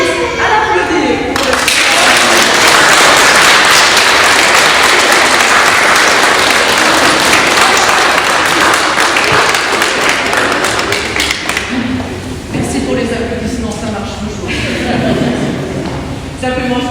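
A Protestant Pentecost congregation in a church at Mertzwiller bursts into loud, sustained applause for about ten seconds, then slowly thins out as a voice talks at the start and again near the end.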